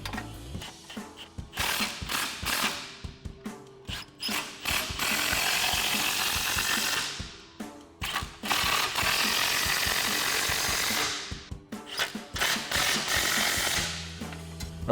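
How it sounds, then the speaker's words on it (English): Ratchet wrench with an 18 mm socket tightening bolts on a RedRock HD rear bumper for a Jeep Wrangler JK, with long runs of rapid clicking in bursts and pauses, close and clear, no talk. "we go ahead and tighten them all down using an 18 millimeter wrench and an 18 millimeter socket"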